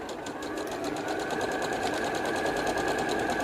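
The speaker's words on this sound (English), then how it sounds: "I'm going to start with a little back stitch just so that it reinforces the edge of the stitches." Sewing machine running steadily while back stitching along the edge of a kitchen towel, a fast continuous close whirring chatter with no pauses and no voices.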